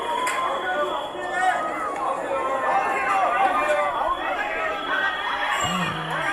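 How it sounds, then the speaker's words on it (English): Dense, loud crowd hubbub of paparazzi and frenzied fans pressing around BTS member V (Kim Taehyung), a steady wall of overlapping chatter and shouts with brief cheers rising from it throughout. "He's being surrounded by these paparazzis and fans, crazy fans."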